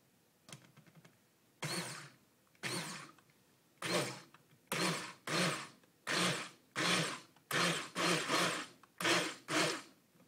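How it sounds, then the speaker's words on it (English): An immersion blender whirs through soap batter in about a dozen short bursts, each lasting under a second, separated by brief pauses. "I'm going to use the immersion blender now"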